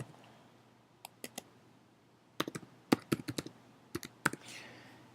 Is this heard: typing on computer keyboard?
yes